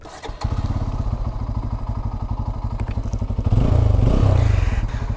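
A Bajaj Pulsar F250 motorcycle engine idles with a rapid, even thumping pulse, then revs up louder for a second or so before settling, close to the microphone, with no talk.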